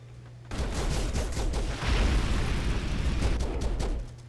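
Gunfire and explosions in the video game Broforce, a loud, continuous barrage of rapid shots and blasts that bursts in suddenly and rumbles on for several seconds before easing off.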